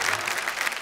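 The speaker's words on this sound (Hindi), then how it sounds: "आपने मेरे सम्मान में इतनी जोरदार ताली बजाई" An audience at a Hindi-Urdu comic poetry stage show breaks into loud, dense applause, a brief wall of many hands clapping together with no voices on top.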